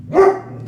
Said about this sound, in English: no need for barking, my boy.